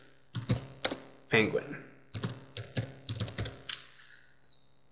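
Someone types a file name on a computer keyboard, clusters of quick, close key clicks in short bursts with pauses between them; a voice says a word partway through.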